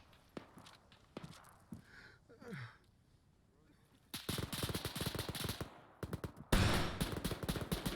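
Bursts of rapid automatic gunfire from a gun in a video game, loud and close, arriving in dense volleys after quieter moments with faint footsteps and shuffling.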